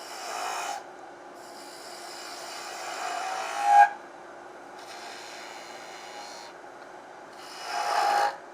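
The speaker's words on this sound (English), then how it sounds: "we're going to use a 3/8 inch spindle gouge" A 3/8 inch spindle gouge with a fingernail grind cuts wood on a lathe while shaping a honey dipper, a raspy shearing hiss that swells in three separate passes with quiet gaps between them.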